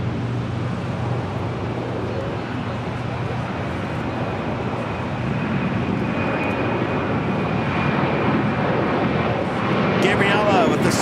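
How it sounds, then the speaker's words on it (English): A Hawaiian Airlines Airbus A330-200 jet departs Los Angeles International Airport on Flight 33 to Kahului, its engines a loud, steady roar that swells slightly toward the end. "Next departure is Hawaiian Airlines Flight 33 heading to Kahului."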